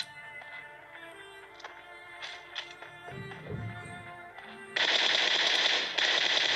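Automatic machine gun fire in a video game, a loud sustained burst erupting in the final seconds after quieter game sounds and scattered effects.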